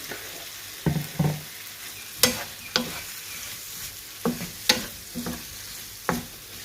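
Drained goat liver tipped into browned masala in a hot pan, followed by spoon stirring: a handful of separate scraping knocks and sizzling bursts spread over several seconds, close by, with no talk.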